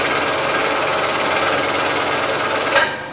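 A scroll saw resaws a piece of wood into thin bookmark blanks, giving a loud, steady, close buzzing rasp that holds throughout and shifts briefly near the end of the cut.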